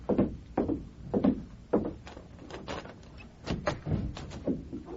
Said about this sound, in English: cover me while I open the door